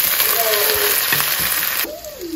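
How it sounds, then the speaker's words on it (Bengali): Turmeric, chili and ginger-garlic paste for a chickpea (chola boot) curry frying in a pan, a dense, close sizzle with stirring clicks, and a voice faintly audible underneath. "আমি অল্প অল্প করে সবগুলো মশলাই এখানে দিয়ে দিয়েছি, দিয়ে আমি খুব ভালোভাবে কষিয়ে নিচ্ছি"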